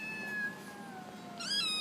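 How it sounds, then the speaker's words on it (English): Several kittens meow, high and thin, with a few overlapping cries that grow louder near the end. The meows are fairly close over a quiet background hiss. "Kitties."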